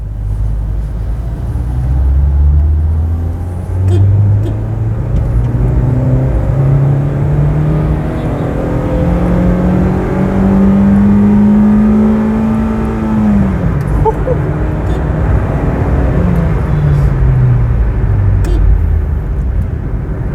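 A Honda Brio 1.2 VTEC petrol engine pulls hard in second gear, its loud, close drone rising steadily in pitch to a peak, then dropping as the next gear engages and building again.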